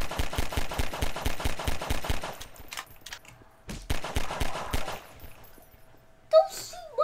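Rapid bursts of automatic gunfire from shooting a stormtrooper NPC in Garry's Mod, a fast steady volley that stops, then a second shorter burst, followed by quiet and a brief sharp effect at the end.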